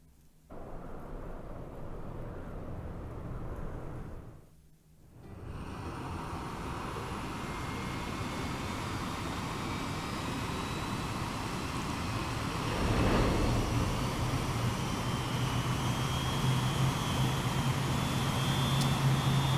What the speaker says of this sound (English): This is the taxis of the future, a spaceship.